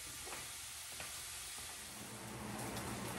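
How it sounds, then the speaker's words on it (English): Ground beef browning in a pan for dirty rice gives a steady, dense sizzle that stays fairly even throughout, with faint stirring under it and no talking. "we're gonna get this cooked and browned real nice"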